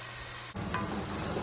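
Onions sautéing in a pan with salt and black pepper, a soft steady sizzle with a brief stir partway through, quiet and close.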